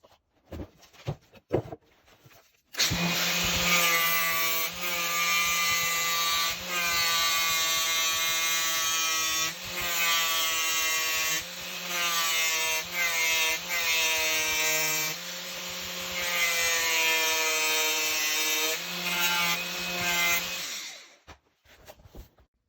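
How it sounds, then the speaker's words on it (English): An angle grinder finishing a scribe cut on a wooden farmhouse sink cabinet: after a few quiet seconds, a loud, sustained high whine runs for about eighteen seconds with brief dips as it bites the wood, then stops. "I'm going to finish that with the grinder"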